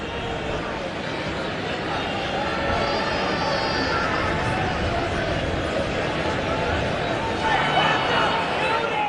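A soccer crowd at BMO Field in Toronto murmurs and stirs on a cold, lightly rainy day, a broad steady roar of stadium hubbub with commentators talking over it.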